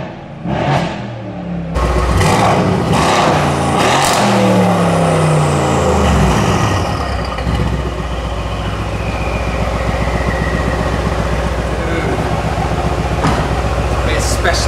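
Tuned Mercedes-AMG C63 with exhaust valves open, heard from inside the car: a loud throaty rev climbs and falls, then settles into a deep, rumbling idle that continues steadily, with a voice speaking over the start.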